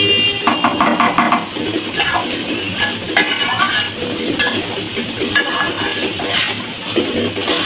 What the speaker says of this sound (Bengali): ডাল ভাজা হয়ে গেছে